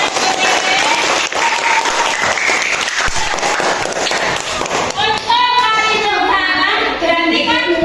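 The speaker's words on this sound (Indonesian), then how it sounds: "Kita beri tepuk tangan." Schoolchildren in a classroom clap for a classmate, a loud, busy round of applause with excited young voices shouting over it, continuing for several seconds.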